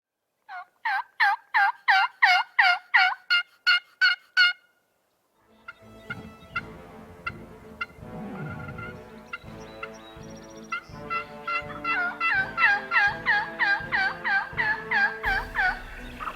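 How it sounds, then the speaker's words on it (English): Wild turkey toms gobble in repeated rapid bursts, a clear run at the start, then a pause, then a busier stretch of overlapping gobbles from several birds, fairly close and loud. "They were gobbling like crazy, but they just weren't coming any closer."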